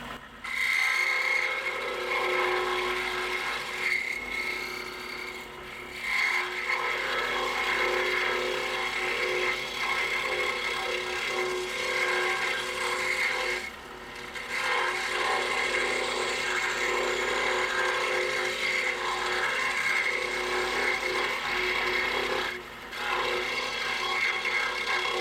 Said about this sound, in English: we'll just cut this out as close to the lines as we can